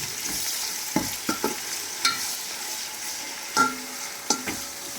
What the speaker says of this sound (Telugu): టమాటా ఉల్లిపాయలు కొంచెం మెత్తగా వేగేంత వరకు వేపుకోవాలి కలుపుకోండి